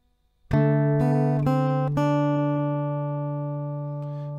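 Acoustic guitar notes built on D: a bass note is plucked, followed by three more strummed or plucked tones in quick succession, which then ring out together as a sustained, slowly fading chord, close and clear with no voices.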